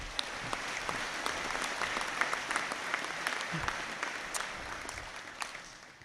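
A conferring ceremony audience applauds graduates with continuous, even clapping that holds for several seconds and eases off near the close, a brief low murmur surfacing midway.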